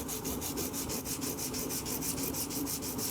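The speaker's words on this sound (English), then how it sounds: "I've got a little bit of emery cloth here, so I just want to show you a little bit of the cleaning process. So I'll do a little sanding like that." Emery cloth is rubbed over metal in a steady, rapid back-and-forth rhythm, a soft, close, scratchy sanding sound that repeats evenly with no talking.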